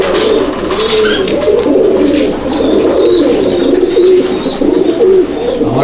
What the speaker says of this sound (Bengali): মুখ ঢাকা পায়রা, খুব সুন্দর, সাইজ বড়।